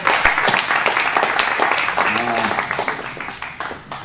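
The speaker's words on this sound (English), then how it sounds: "Yeah, put your hands together." A crowd at The Velvet Note jazz club applauds in a dense, loud burst of clapping that slowly thins, with voices calling out over it.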